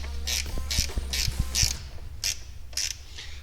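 Ratchet wrench tightening a battery terminal on a Honda 400ex ATV, a series of quick clicking pawl bursts in an irregular rhythm, close and fairly loud with no talk.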